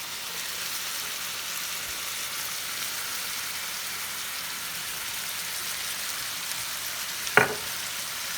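Soft, steady sizzling and stirring as Bertolli rustic cut sauce is mixed in a pan with macaroni, with a brief clatter near the end.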